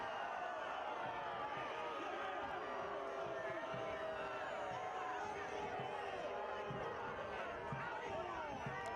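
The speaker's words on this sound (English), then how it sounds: "Crowd didn't like the call." A soccer stadium crowd at a Pittsburgh Riverhounds SC vs San Antonio FC match reacts to a referee's call with a steady roar of boos and shouts that holds at a fairly even level throughout.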